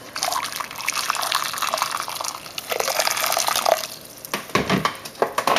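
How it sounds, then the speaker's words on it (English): Just-boiled water poured from a kettle onto a piece of tin foil in a container, a steady close liquid splash and trickle that tapers into a few drips near the end. "Put my piece of tin foil in. And this water just finished boiling."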